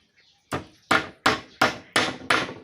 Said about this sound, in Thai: ตะปูหนึ่งนิ้ว ตอกกับ ไม้ที่เป็นคานนะครับผม